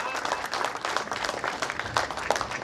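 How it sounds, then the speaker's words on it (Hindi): An audience applauds to welcome a central agriculture minister at a horticulture board event, steady clapping from a crowd heard mid-range, with a voice talking over it. "तालियों से ऐसा स्वागत करें"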